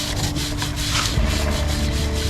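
A brush scrubs the drive chain of a Ducati Monster 937 motorcycle as the rear wheel is turned, giving a steady, close, continuous rubbing and rasping sound.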